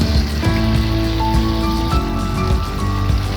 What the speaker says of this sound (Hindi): तो यहाँ पे हम चिकन की भुनाई करेंगे अच्छे से।